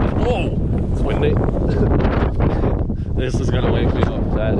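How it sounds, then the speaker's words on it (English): Gusty wind buffets an outdoor microphone beside a car being taken out for a first test drive, a steady loud rumble with a person talking over it throughout. "it's windy."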